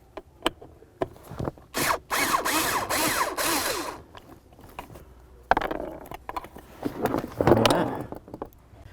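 Bolts being driven out with a 7/32 bit on a 2005–2015 Toyota Tacoma while replacing the blower motor resistor, giving bursts of ratcheting, whirring tool noise with clicks and short pauses between runs.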